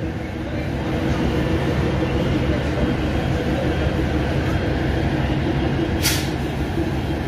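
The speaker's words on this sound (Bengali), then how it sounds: "বন্ধুরা কাঞ্চনকন্যা এক্সপ্রেস ঢুকলো, দেখুন শিয়ালদা আলিপুরদুয়ার কাঞ্চনকন্যা এক্সপ্রেস চলে এসছে শিলিগুড়ির 2 নম্বর প্ল্যাটফর্মে।" Kanchankanya Express from Sealdah to Alipurduar pulling into platform 2 at Siliguri station, a loud steady low rumble of the train and platform bustle with a brief hiss near the end.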